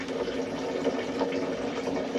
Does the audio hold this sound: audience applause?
no